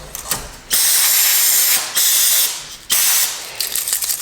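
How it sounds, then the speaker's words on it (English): Brake cleaner is sprayed in three long hissing bursts onto a push mower carburetor, with short pauses between them and faint clicks around them. "I'm just gonna blow off the carb a little bit with this brake clean, just to clean up the parts."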